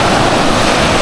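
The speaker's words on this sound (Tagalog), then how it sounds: "Napakalakas pa naman ang alon" Strong ocean waves at high tide at a shoreline fishing spot make a loud, continuous roaring wash of surf mixed with wind rumble, close and steady throughout.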